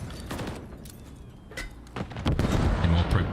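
Rapid gunfire and explosions crackle through a competitive Call of Duty esports match, dense bursts of shots building toward the end while a commentator talks over them.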